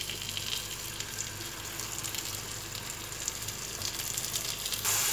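Chicken malai boti cooks in a pan as fresh cream goes in, giving a soft, steady sizzle and bubbling that swells slightly at the end.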